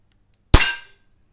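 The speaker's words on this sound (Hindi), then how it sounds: "एक राउंड हमने चलाया है" A Daisy Powerline 901 air gun fires a single pellet, one sharp close crack that fades within half a second, with silence before and after.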